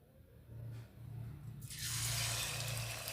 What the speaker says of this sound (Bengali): একটা একটা করে নিয়ে এবার আমি তেলে ছেড়ে দেবো